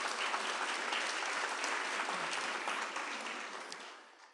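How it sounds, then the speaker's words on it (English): An audience at a dedication ceremony applauds for the kids, a dense, sustained round of clapping that fades out toward the end. "Can we give one more round of applause for the kids tonight?"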